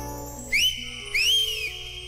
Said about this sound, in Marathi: पण पुन्हा एकदा शिट्टी मारा ना.